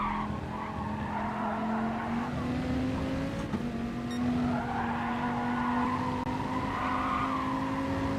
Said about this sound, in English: I could just hear it when we were, how faster the car was going up the rev band